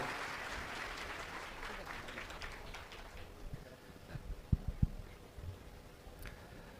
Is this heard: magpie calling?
no